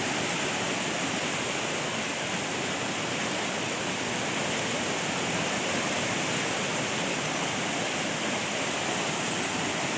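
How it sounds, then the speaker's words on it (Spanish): Storm floodwater in Monte Patria, in Chile's Coquimbo region, rushes and knocks stones along with it, a loud, unbroken roar that stays steady throughout with no voices. "De las piedras golpeando la fuerza del agua por acá."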